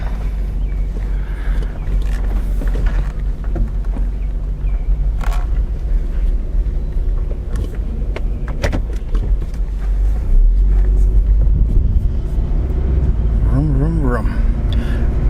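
A Nissan Altima with an intermittent cylinder misfire drives along a road, giving a steady low engine and road rumble that runs the whole way and swells slightly louder in the second half.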